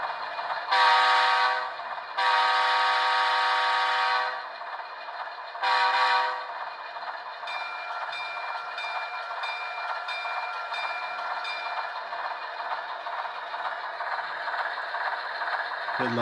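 An HO scale Walthers EMD F40PH model locomotive with a Soundtraxx TSU-21PNE sound decoder blasts three horn toots, then a steady diesel engine rumble runs on without talking.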